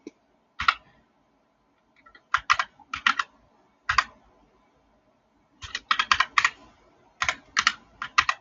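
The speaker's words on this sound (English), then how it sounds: "I'm typing with one hand right now." A computer keyboard is typed on with one hand, producing short bursts of close, crisp key clicks separated by pauses, with no talking.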